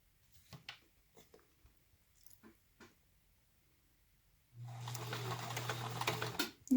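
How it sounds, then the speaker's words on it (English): A sewing machine stitches a zipper pouch, first as a few soft clicks from hand-cranked stitches, then as a steady motor whir that runs for a couple of seconds, close and moderately loud. "I think I'm going to hand crank to get those first stitches in."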